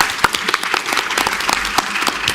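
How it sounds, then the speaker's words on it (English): An audience breaks into applause, a dense burst of many hands clapping close and loud for a couple of seconds. "Let's give them a round of applause."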